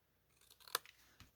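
Scissors snipping through paper while cutting a tab for a pop-up box, a single quick close crisp snip with faint rustling around it, quiet and alone.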